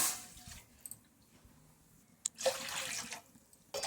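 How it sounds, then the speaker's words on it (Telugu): Water pours into a pan in two quiet bursts, a short splash at the start and a longer steady pour later, with no talking. "గ్లాసెస్ వాటర్ యాడ్ చేద్దాం."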